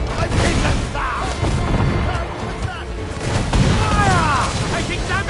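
Ship cannons boom repeatedly during an Assassin's Creed naval battle, loud thuds and crashes overlapping amid clattering combat, while crew voices shout orders over the barrage.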